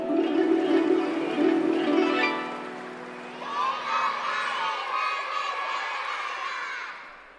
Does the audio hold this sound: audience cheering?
yes